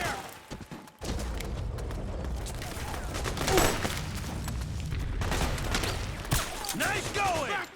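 Suppressing gunfire in the Metal Gear Solid 4 video game, a rattling fusillade of shots and thuds at moderate level, with voices shouting among the combat noise.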